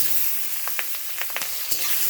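Potato and eggplant sizzle and fry in hot oil with a steady crackling hiss and a few light pops, close by and without talk.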